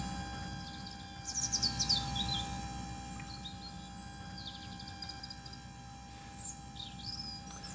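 Simulated birdsong plays in a digital twin environment of overhead power lines, with faint chirps and tweets rising in a short cluster early on and returning briefly near the end over a steady low background hum.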